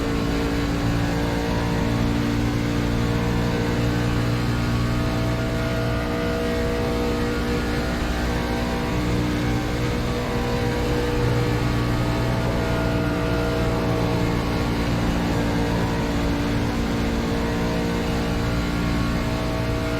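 A race car engine held at full throttle in the iRacing sim, a loud continuous droning roar with steady harmonic whine throughout, no pauses or talk.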